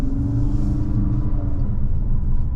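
Steady low engine rumble and road noise from a 2023 Infiniti QX55 Luxe AWD SUV rounding a curve on a slightly greasy road, continuous and even with no voices.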